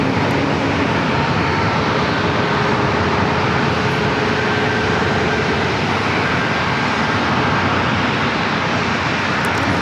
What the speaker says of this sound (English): It's getting loud because we have a lot of planes waiting to take off.